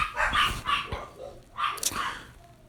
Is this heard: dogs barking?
yes